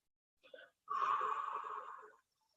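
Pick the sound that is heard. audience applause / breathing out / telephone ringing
breathing out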